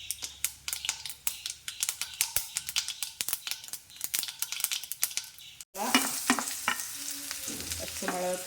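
Chopped green chilies stir-fried in a pan: a spatula scrapes and taps in an irregular rhythm over a low sizzle, then a louder burst of frying takes over, all close and without talk.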